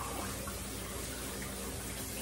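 Vegetables for chow chow rinsed under a running kitchen tap, a steady close splashing hiss of water with no pauses, on its own without talk.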